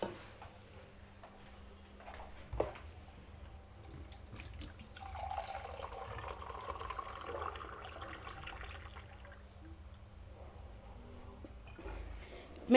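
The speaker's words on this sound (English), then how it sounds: "Make sure when you're adding water" Water poured into a pot of simmering beans while cooking the traditional Luhya dish omushenye: a soft, steady splashing pour of several seconds amid faint kitchen clicks, with no talk.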